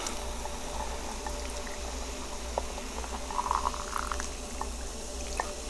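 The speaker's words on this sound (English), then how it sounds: "I have the microphone right here so we can have some really good ASMR sound of the Dr. Pepper." Dr Pepper soda fizzing right next to the microphone, a faint, continuous carbonated crackle with scattered tiny pops over a low hum.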